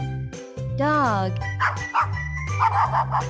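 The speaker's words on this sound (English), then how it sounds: "Dog." A dog barks and yips in a few short, bright calls over a steady background tone, sounding close and clear.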